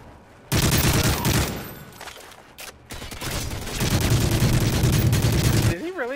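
Rapid gunfire in a competitive team shooter video game, dense bursts of shots in two long stretches, loud and close, with voices talking among the shots.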